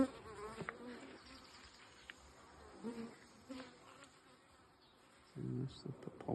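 Honey bees buzz around an opened beehive being rechecked after a second brood box was added, a steady close drone with individual bees passing loudly near the microphone.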